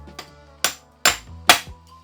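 A hammer strikes a front suspension part in three or four close, sharp metallic blows that get steadily heavier, the later hits ringing briefly, with no talking.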